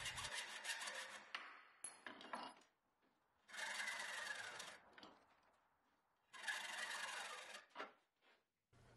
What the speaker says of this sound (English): Now I'll saw a couple pieces of bronze rod for the pins.